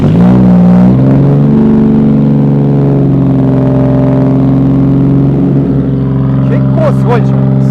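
A Toyota Mark II JZX100 Tourer V engine revs loudly and continuously through a one-off custom muffler with a deep, throaty exhaust rumble, rising and holding, with brief voices near the end.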